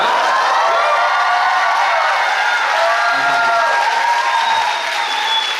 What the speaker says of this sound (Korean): 저기 괜찮으시면 뭐 이렇게 호응하는 소리 한 번만 들려주시겠어요?